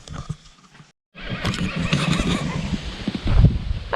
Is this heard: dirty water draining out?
no